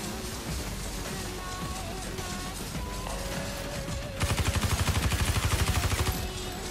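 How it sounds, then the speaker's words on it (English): Rapid automatic gunfire in the Watch Dogs 2 video game, a dense broadband burst of shots over a loud, busy game soundscape, with a sharper rattling volley near the end. "What is shooting?"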